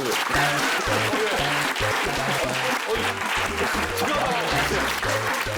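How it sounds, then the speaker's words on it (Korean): A lecture audience at a science talk breaks into full, dense applause that stays loud and continuous throughout, with a faint low hum beneath the clapping. "박수 한번 쳐주시죠."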